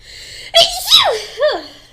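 A close, loud sneeze during a relaxed music podcast: a sharp intake, then an explosive burst, followed by a shorter second vocal burst that sounds like a giggle or a smaller echo sneeze.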